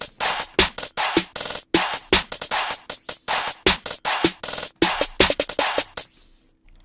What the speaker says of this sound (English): The rest of the drums sounds like this